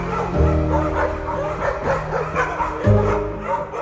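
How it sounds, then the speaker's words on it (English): Several dogs bark in repeated, overlapping bursts in wooded surroundings, a loud, agitated chorus over a steady background of dramatic music. "Suddenly, Wanaka's dogs erupted into a cacophony of barks, disrupting the eerie stillness."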